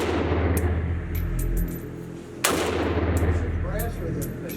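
A Meridian Defense Pestilence AK-47 rifle firing polymer rounds at a range, one sharp loud report cutting through steady background noise midway, with faint clinks around it.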